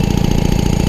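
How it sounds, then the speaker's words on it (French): A Peugeot 103 moped engine runs loud and close with a rapid, even mechanical pulsing, carrying a faint metallic rattle from inside the variator, with no voices. "Il y a un petit bruit dedans, on l'entend. Petit bruit des gling gling."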